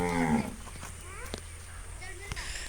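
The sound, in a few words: Gir cross cow and calf mooing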